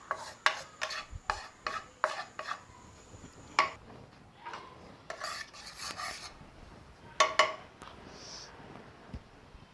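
A spatula scrapes and rasps against a pan as dry gram flour (besan) is stirred and roasted, in a run of quick, close strokes with short pauses and no voices.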